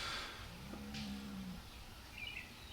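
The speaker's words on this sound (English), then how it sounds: "I can hear a whole bunch of cows." A herd of cows moos in the distance during a spring turkey hunt in Pennsylvania, with one low drawn-out moo standing out over quiet woodland ambience and faint bird calls.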